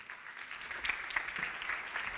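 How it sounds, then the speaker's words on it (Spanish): Conference audience at a plenary session gives a steady wash of applause, heard faintly and evenly from a distance for a couple of seconds without talking. "un fuerte aplauso para él"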